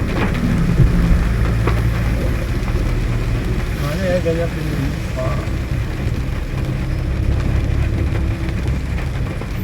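Constant heavy hiss of rain mixed with road and traffic rumble on a blocked road, with faint voices and occasional tones in the background.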